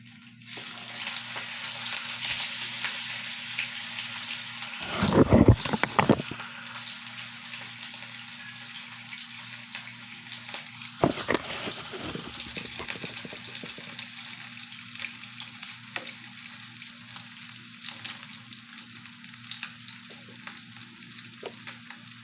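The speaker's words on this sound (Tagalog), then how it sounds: "pag nagpiprito ko, parang natatakot ako sa mantika" Food frying in hot cooking oil, a steady close sizzle throughout with a couple of brief louder bursts of spattering or stirring.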